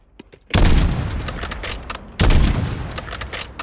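Gunfire in the video game Warzone: two heavy, booming bursts of rapid shots, the first starting about half a second in and the second at the two-second mark, each decaying into a trailing rumble.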